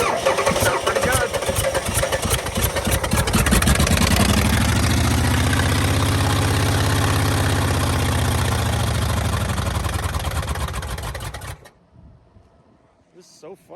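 A loud engine running without oil runs roughly near the mic, then stops abruptly near the end, leaving quiet rustling.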